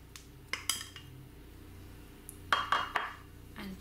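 A spoon stirs cut pieces of feta cheese into a potato salad with roasted bell peppers, giving a few faint, scattered clinks and scrapes against the bowl, with quiet gaps between them.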